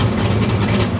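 A Ford Fox body Mustang engine idling at a stable air-fuel ratio, a steady low rumbling drone with even pulsing, loud and close for about a second.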